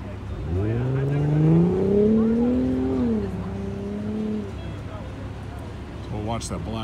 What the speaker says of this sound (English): we'll watch either the black car or the blue car